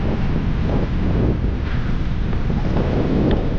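Strong, cold wind buffets the microphone at a gravel pit lake, a loud continuous roar and rumble with gusty swells and no speech.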